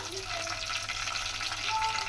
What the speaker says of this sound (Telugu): నేను ఇప్పుడు ఇవి కాలుతుండగా పచ్చిమిర్చి వేసేయాలా